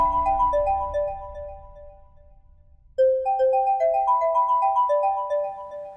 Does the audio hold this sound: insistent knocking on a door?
no